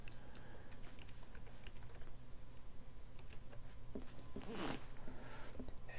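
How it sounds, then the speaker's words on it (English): Computer keyboard keys are pressed in quick, uneven clicks over a low steady hum, fairly quiet and close, with a brief louder rustle near the end. "hey buddy, stop pressing keys"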